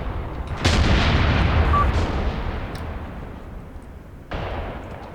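Tank gunfire in Graviteam Tactics Mius Front: a loud boom followed by a long rolling, decaying rumble, then a second sharp report near the end.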